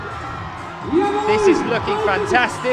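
An IFSC Climbing World Cup lead final crowd in Imst whoops and cheers for a climber on the wall, the cheering swelling partway through with shouts and whistles, under an excited commentator's voice.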